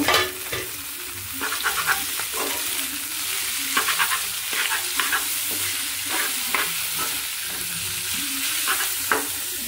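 Boiled lentils for haleem go into a frying pan with browned onions and green chillies and are stirred, giving repeated close scraping strokes over a steady sizzle, with no talking.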